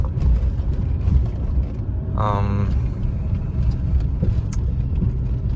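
A 1988 Chrysler New Yorker being driven, heard from inside as a constant low road and engine rumble, with a brief rising whine partway through, close and fairly loud.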